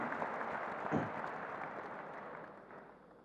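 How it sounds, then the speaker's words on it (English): Audience applause at a Redmi Note 8 Pro smartphone launch event in India, a broad wash of clapping from a crowd that stays steady and slowly fades over a few seconds. "I think that deserves a bigger clap, guys."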